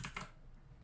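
Computer keyboard typing: a couple of quick, crisp key clicks at the start, then a low, quiet background.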